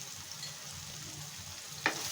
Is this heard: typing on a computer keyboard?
no